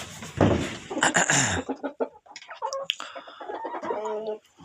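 Chickens, Brahma hens among them, cluck and call in short uneven bursts close by in a poultry yard, with a person speaking briefly at the start.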